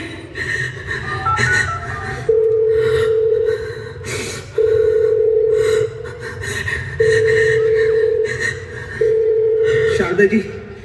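A phone ringing unanswered, heard as four long steady ringback tones with short gaps between them, loud and close, while someone speaks and sighs over the ringing.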